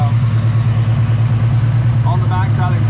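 Nissan 350Z engine idling in a garage, a steady low rumble with a constant even pulse, close and loud throughout, while a torch heats the exhaust.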